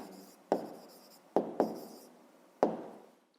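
Someone writes by hand on paper, likely a pen or chalk, noting a math answer. Four distinct strokes, each a quick scratchy onset fading out, come close by in an uneven rhythm with no talk.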